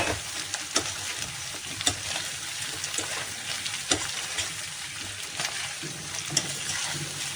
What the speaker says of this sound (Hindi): हमने जो ये गाजर और अदरक कट करके रखा है इसे भी हम इसमें डाल देंगे। इसको हम मिक्स कर लेंगे।